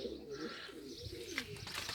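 Soft, low pigeon cooing, fairly quiet and close, with faint background ambience.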